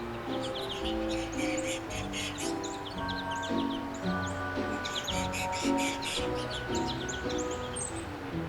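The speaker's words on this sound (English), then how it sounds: "So many American goldfinches showed up at once that there wasn't enough room for all of them to perch." A crowd of American goldfinches squabbling at a snowy winter feeder: dense, overlapping chirps and twittering calls carry on continuously at moderate volume, with no voices.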